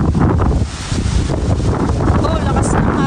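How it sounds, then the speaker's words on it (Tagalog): Strong gusty wind buffeting the microphone on a small fishing boat at sea, a loud continuous roar with voices faintly under it. "Oh, lakas ng hangin."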